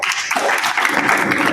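A group of schoolchildren claps loudly at a spiritual talk, sustained and dense applause that carries steadily through the brief moment without any voices.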